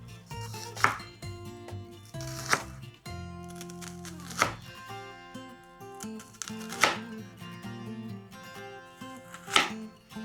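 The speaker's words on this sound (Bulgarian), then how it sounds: "Следващата стъпка е да нарежа лукът на кръгчета." A knife slices an onion into rings on a cutting board in slow, regular strokes, each cut landing with a crisp thud, with no talking.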